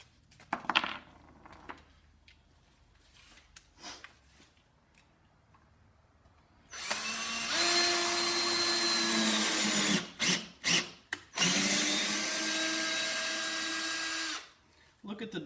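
A power drill drives a Termite wood screw into wood in two loud, close bursts of whirring separated by brief stop-start pulses, following a stretch of quieter handling noises.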